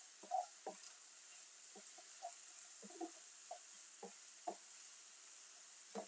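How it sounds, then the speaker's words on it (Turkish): Cauliflower and peppers stir-fried in a pan: a soft steady sizzle broken by repeated knocks and scrapes of a spoon, close and fairly quiet, with no voices. "Şimdi birlikte kavuruyoruz."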